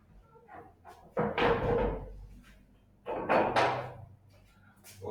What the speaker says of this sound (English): Let me just close the door so that we can start.